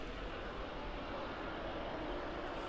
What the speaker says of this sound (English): And away it goes, continuing its takeoff roll there.